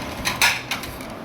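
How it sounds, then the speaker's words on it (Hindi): Dishes, pots and cutlery being handled and stacked in a home kitchen after a festive meal, a few close clattering clinks and knocks in quick succession with no talk. "बर्तन लगा रही हूँ।"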